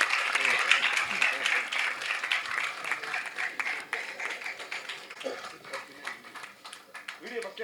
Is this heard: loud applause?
yes